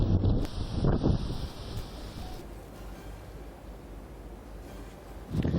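Strong winds of Cyclone Tauktae sweeping through Mumbai, a steady rushing roar with buffeting gusts at the start and end.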